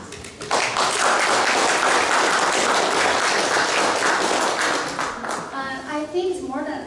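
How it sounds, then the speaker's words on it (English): A crowd at an annual leadership gala claps loudly and steadily for several seconds, then the applause tapers off as a voice starts talking. "give a big round of applause"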